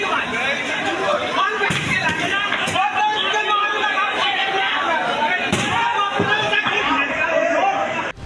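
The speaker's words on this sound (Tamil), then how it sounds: "ஆத்திரமடைந்த பயணிகள் கதவுகளை அடித்து உடைத்து கபலீகரம் செய்துள்ளனர்." Angry passengers bang on the doors of an AC train coach on a crowded pilgrim train to Prayagraj, with loud repeated slams and thuds over constant crowd chatter and shouting.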